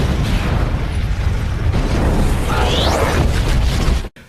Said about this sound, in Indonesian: anak buah Garcia meledakkan tempat itu hingga tak tersisa